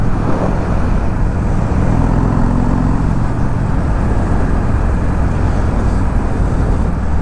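Harley-Davidson Dyna Low Rider 103 fitted with a Super Trap exhaust, its engine holding a steady, loud, continuous rumble up close without a break.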